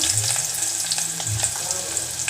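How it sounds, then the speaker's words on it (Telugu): Sliced onions and green chillies sizzle and crackle steadily in hot oil with tempering seeds in a cooking pot, a close, continuous frying hiss with faint stirring and no voices. "పచ్చిమిర్చి ఉల్లిపాయలు బాగా కలర్ వచ్చేవాటికి ఫ్రై చేసుకున్నాం"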